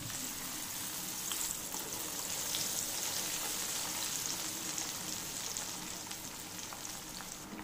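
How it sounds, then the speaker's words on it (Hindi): Sweet potato pieces fry in hot oil with a steady, dense crackling sizzle that holds fairly even throughout, close by and with no talk. "अब हम इसमें शकरकंदी डालकर फ्राई करेंगे।"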